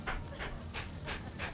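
A dog in the video game Rise of the Ronin pants in quick, rhythmic breaths, about three per second, close and clear with nothing else over it.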